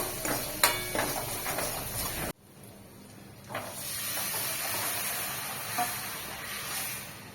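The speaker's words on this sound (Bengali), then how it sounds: "মশলাটা ভাজা ভাজা করা হয়ে গেছে, এবার আমি ডালটা ঢেলে দেবো।" Split pea lentils hit hot frying spices in a pan, setting off a loud, steady hiss and sizzle that holds without talk.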